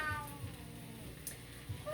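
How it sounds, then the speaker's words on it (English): An elderly Siamese cat, 17 years old, meows softly in a quiet room, with a couple of thin cries close by over faint background noise. "He's a 17-year-old Siamese cat, and he is just beautiful, and he's never stopped crying"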